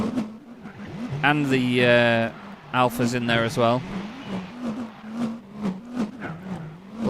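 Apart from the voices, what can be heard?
race car engine in Gran Turismo 4 video game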